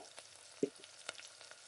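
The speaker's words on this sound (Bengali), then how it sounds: "ঝিঙেটাও দেখো সুন্দর ভাজা হয়ে এসছে" Salted ridge gourd with turmeric fries quietly in a pan, a faint soft sizzle with a few light knocks and scrapes, close but low in level.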